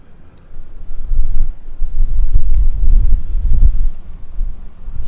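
Strong wind blowing outdoors on a cold, snowy day at an RV resort park in Holmes County, Ohio, loud gusting buffets against the microphone that swell and roll continuously, with no talk.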